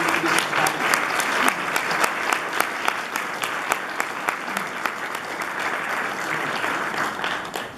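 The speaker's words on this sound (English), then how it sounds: "please join me in giving a huge round of applause for those of us who make it" Sustained applause from an audience at a candidates' Q&A meeting in Fredericton South, dense and steady clapping that carries on evenly for several seconds with a few sharper individual claps standing out.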